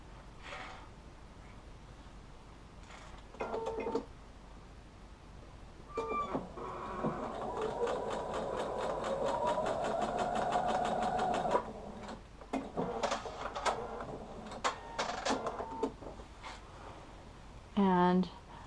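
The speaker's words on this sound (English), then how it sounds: "I'm going to continue to sew all of them, and then I will press them to the dark side." A home sewing machine sews pieces of a quilt block, with a steady whirring run of several seconds at close range, broken by shorter bursts, handling noises and a person speaking.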